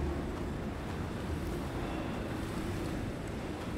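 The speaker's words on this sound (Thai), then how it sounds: "ลมแรง" Strong wind roaring steadily in the survival game Icarus at night, a dense, continuous low rumble with gusty hiss, loud and unbroken throughout with no voices.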